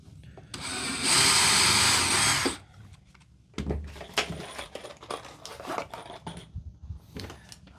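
A power drill drives screws into the build of a box van conversion, one loud sustained burst of whirring up close, followed by quieter clunks, taps and handling noises.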